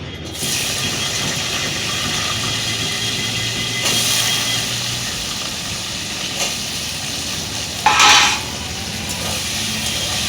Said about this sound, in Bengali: আমি আলুগুলো তেলের মধ্যে ছেড়ে দিচ্ছি।